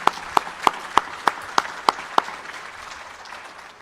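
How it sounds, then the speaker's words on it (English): At a soccer club announcement, eight sharp, evenly spaced claps ring out close by, then give way to a soft murmur of crowd noise. "So please, a round of applause for all those people that are here."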